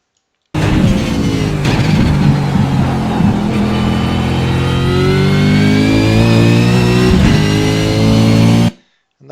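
A race car lapping Bathurst is heard close and loud from the cabin as the engine howls and then brakes heavily, the revs stepping down through blips as it downshifts into second gear, with transmission whine throughout before the sound cuts off.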